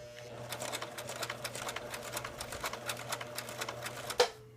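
A domestic sewing machine stitching fabric for a doll, a quick regular run of needle clatter with a low motor hum beneath, heard close and alone, ending in a sharp click.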